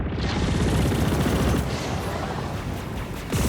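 Gunfire from corrupted turrets in the space shooter game Chorus, a dense, loud continuous barrage of rapid shots and booms that stays steady throughout, with a sharp burst near the end.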